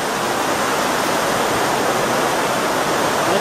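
Water of the Torondoy river rushes through a diverted channel at an intake, a loud, steady broadband roar with no pauses, close by.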